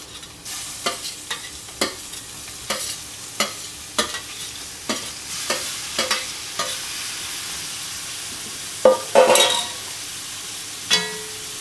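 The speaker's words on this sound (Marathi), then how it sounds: "आता आपण हे व्यवस्थित भाजीला व्यवस्थित परतून घ्यायचं आहे कोळंबीची" Prawn masala is stir-fried in a pan, with a low, steady sizzle under sharp, rhythmic scraping strokes of a spatula roughly once a second, plus a few louder clinks near the end.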